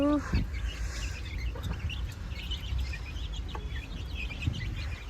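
A rooster and its chicks cluck and peep in a village yard, with scattered soft calls and brief chirps over a low background rumble, fairly faint and intermittent.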